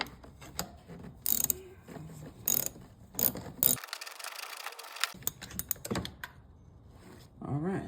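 Ratchet and socket turning a spark plug loose on a 2011 Toyota Corolla, heard as several short bursts of clicking with a brief quiet gap and a voice talking around them.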